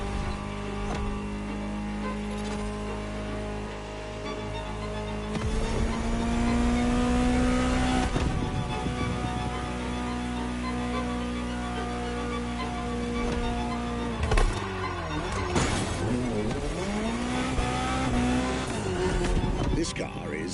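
A Ferrari GTO supercar drives in the racing game The Crew Motorfest, its engine humming steadily and then rising in pitch, with brief tire scrubs partway through, under continuous narration.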